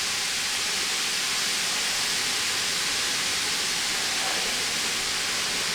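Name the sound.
skillet heating up on medium-high heat, sizzling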